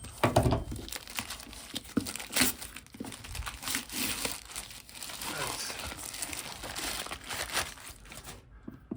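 Packaging for a Vidlent Fan X6 130000 RPM turbo fan is torn open and crinkled, giving continuous close rustling and crumpling with sharp tearing bursts. It stops abruptly at the end.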